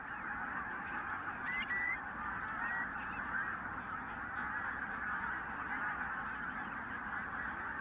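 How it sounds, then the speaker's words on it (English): A large flock of pink-footed geese in North Norfolk honks continuously, many overlapping calls forming a steady, moderately distant clamour. "Pink-footed geese have come down from their breeding grounds in Iceland and Greenland, and are here in North Norfolk for the winter"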